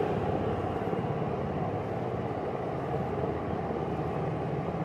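Helicopter passing overhead during outdoor gold prospecting with a high banker, a loud, steady low rotor rumble holding constant throughout with no talk.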